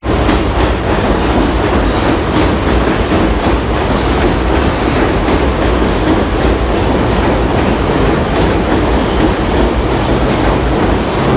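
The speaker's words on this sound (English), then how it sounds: "there you guys saw the subway train passing around the neighborhood" A New York City subway train roars past loudly and steadily on an elevated track in Ridgewood, Queens, wheels clattering and rumbling for the whole stretch without a break.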